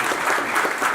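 A crowd at an event applauds the organizers, a brief burst of dense, continuous clapping at steady volume.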